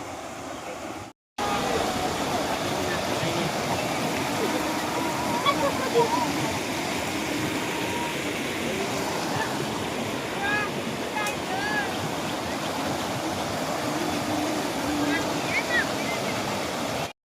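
A river flows steadily with a broad, noisy, continuous roar, close by, with occasional voices faintly mixed in beneath it.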